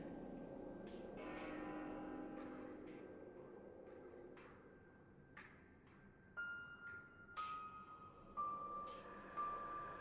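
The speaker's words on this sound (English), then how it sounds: "I wonder what the bell truly is." A video game bell tolls at the top of the world tree, a series of clear, resonant strikes ringing out at an even pace over a quiet ambient bed, the later strikes louder.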